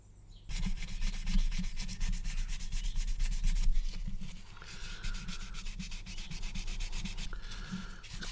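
Steady back-and-forth sanding on the seams of a plastic 1/32 Kotare Spitfire Mk1a model kit's horizontal stabilizer, close and continuous with rapid rhythmic strokes and a brief pause midway.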